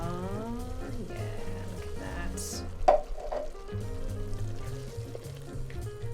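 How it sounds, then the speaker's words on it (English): Tinned tomato soup is stirred into sizzling butter chicken in a pan, a low steady sizzle with a sharp splash and clatter near the middle, then stirring continues close up without speech. "Give that a good stir through."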